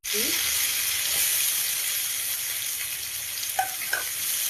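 Koi fish (climbing perch) frying in hot oil in a pan, a loud, steady sizzle that holds throughout with a couple of faint clinks near the end.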